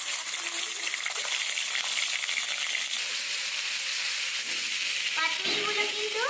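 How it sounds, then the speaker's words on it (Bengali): Vetki paturi, fish wrapped in leaves, frying in hot oil: a loud, dense, continuous sizzle up close, with a few brief scraping touches near the end. "এখন কিন্তু আমি আর একটু পাতুরিগুলোকে ভেজে নেব।"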